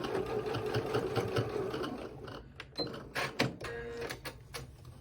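Sewing machine backstitching a bag, a close rapid mechanical stitching whir that breaks into short bursts and clicks as the direction changes.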